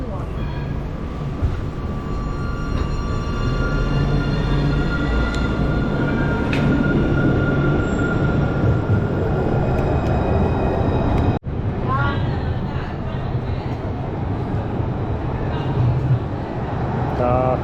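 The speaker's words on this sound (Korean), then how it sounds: "독일 가는 트램이 옵니다." A cross-border tram to Germany rumbles in close and loud, its wheels humming and squealing faintly on the rails as it rolls to a stop.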